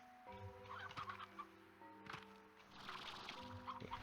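Chickens cluck and gobble repeatedly in the video game Slime Rancher, with several overlapping bird calls and a steady musical background, quiet overall.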